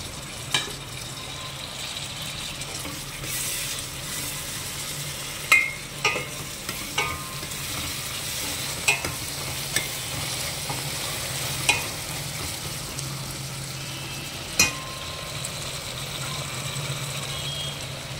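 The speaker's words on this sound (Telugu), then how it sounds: "మధ్య మధ్యలో ఇవి కలుపుకోవాలండి, లేకపోతే కింద అడుగున అంటుకుపోతాయి." Penne pasta with tomato fries quietly in a pan while a spoon stirs it, with soft sizzling broken by occasional sharp scrapes and clinks against the pan.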